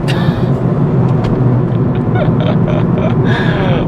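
A 300hp Ford Fiesta ST engine pulls hard in third gear from about 3,000 RPM as boost builds, a loud, steady rising rumble heard from inside the car, with brief clicks and whooshes.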